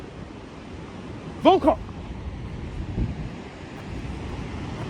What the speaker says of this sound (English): This is the Atlantic Ocean, in case you didn't know.